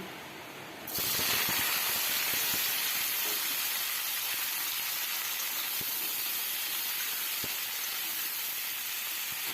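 Potato and eggplant pieces drop into hot oil with fried dried chilli and black cumin, bursting into a loud, steady sizzle that continues unbroken with occasional small pops and crackles.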